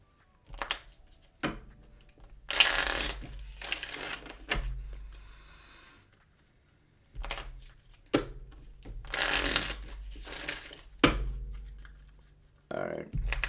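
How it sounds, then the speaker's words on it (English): Tarot cards are shuffled in several short bursts of crisp riffling, with quiet gaps between bursts and light talk at times. "A few shuffles with Amo."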